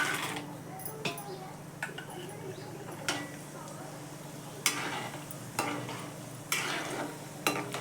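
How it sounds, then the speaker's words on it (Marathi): Peanuts frying in hot oil, a low continuous sizzle with intermittent sharp clinks and scrapes of stirring in the pan, quiet and close. "आता मी भाजायला घेते शेंगदाणे वगैरे तळायला."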